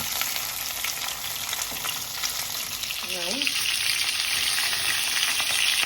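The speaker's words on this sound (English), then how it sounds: "So we'll allow this to brown on one side, maybe about 4 or 5 minutes, and then we turn." Oxtail pieces brown in a little oil, a steady, dense sizzle heard close up that grows slightly louder toward the end, with a brief voice partway through.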